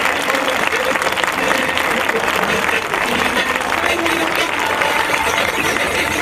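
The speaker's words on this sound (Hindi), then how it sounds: "कृपया तालियों से जोरदार सम्मान कीजिए" Dense, steady applause from a large audience at a Hindi religious discourse on Giriraj in Gwalior, filling the hall loudly and evenly from start to finish.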